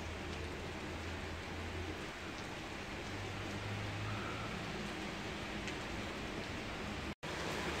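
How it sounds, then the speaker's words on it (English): A steady rain shower falls at night in Armenia, Colombia, a constant even hiss of rainfall with no gaps except a momentary dropout near the end. "I much prefer getting the rain at night versus getting it during the day."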